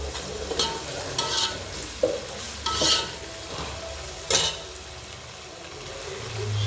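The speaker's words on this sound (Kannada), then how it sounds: "ಸ್ವಲ್ಪ ಶುಂಠಿ ಬೆಳ್ಳುಳ್ಳಿ ಪೇಸ್ಟ್ ಮತ್ತು ಟೊಮೊಟೊ ಎಲ್ಲ ಸ್ವಲ್ಪ ಫ್ರೈ ಮಾಡ್ಕೊಳ್ಳೋಣ" Ginger garlic paste and tomato fry in a pan under a gentle, continuous sizzle, broken by a few distinct scrapes and knocks of a spoon against the metal, near and moderately loud.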